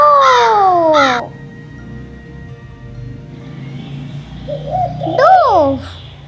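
A dove gives a soft, hollow coo late in the recording, after a short burst of higher voice-like calls at the start and a quiet gap in between.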